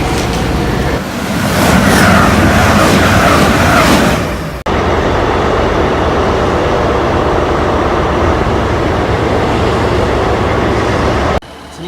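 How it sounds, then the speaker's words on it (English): A Sprinter diesel train run by East Midlands Railway goes past close by with a loud, steady rumble and roar. The rush swells and changes partway through, then cuts off sharply. "It's an East Midlands train Sprinter."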